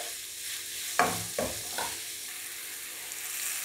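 Curry leaves and green chilies sauté in a pan for an egg curry, a soft steady sizzle with a few brief stirring scrapes up close.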